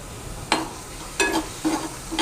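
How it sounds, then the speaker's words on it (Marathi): Semolina roasting in ghee for a moong dal halwa, stirred in a few separate scraping strokes, each a short soft sizzle and rasp, close by with quiet gaps between and no voices. "याच्यामध्ये आता आपण रवा टाकून भाजून घेऊ छान"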